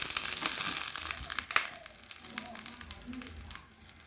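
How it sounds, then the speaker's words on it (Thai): Water at a rolling boil in a pot for Thai red curry with clown featherback fish, bubbling and crackling, a dense fizzing hiss with occasional pops, close and moderately loud. "น้ำเดือดแล้วนะครับ"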